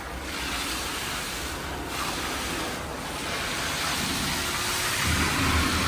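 Broad, steady rushing and churning of a pump sucking up gravel and manure on a dairy farm, loud and continuous with a slight swell toward the end, no talking.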